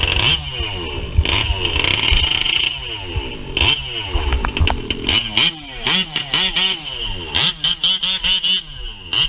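A 1/5 scale nitro RC car engine with an Olamat exhaust pipe buzzes loudly at high revs, revving up and down repeatedly with sharp rising and falling whines in quick bursts.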